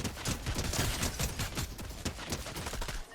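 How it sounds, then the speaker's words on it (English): A deployed turret in Fortnite fires rapid, continuous bursts of gunfire, dense and loud throughout with a steady mechanical rhythm. "dude, our turret is clutching up, man."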